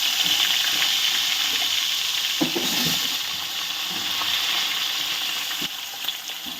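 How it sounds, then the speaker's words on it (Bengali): Potatoes fry in oil left over from frying rui fish. A steady, close sizzle runs throughout with occasional stirring clatter and a watery hiss, and nobody speaks. "এবার আমি এই তেলের মধ্যেই আলুগুলোকে দিয়ে ভালো করে ভেজে নেব"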